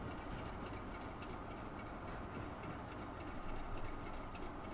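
Freight slag train running in the Transport Fever video game: a steady, fairly quiet rumble of rolling wagons with faint clickety-clack and low engine noise, continuous and with no speech.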